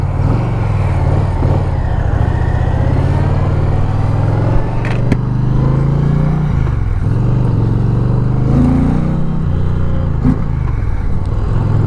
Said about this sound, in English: I'm going to be in sport mode, but I notice right away in sport mode, even in sport mode, that the throttle response is a little lacking.